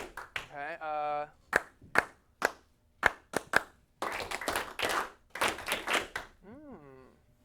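A teacher claps hands in a classroom to call for silence: a few sharp, close claps scattered among the teacher's talking, then a short pause.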